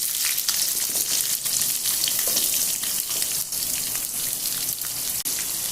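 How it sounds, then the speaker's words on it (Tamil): Sliced onions and dried red chillies fry in hot oil, giving a constant crackling sizzle with scattered sharp pops, close and fairly loud, with no voices. "இப்போ வெங்காயம் நல்லா வதங்கிடுச்சு."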